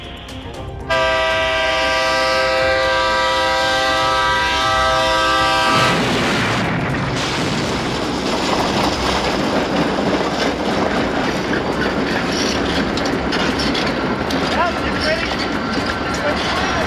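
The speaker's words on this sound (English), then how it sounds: "Amtrak train slamming into a car stuck on railroad tracks in northern Greenville County" An Amtrak train bears down on a car stuck on railroad tracks in northern Greenville County, its horn blaring in a long, loud sustained blast before giving way to a roaring rush of impact and rolling rail noise.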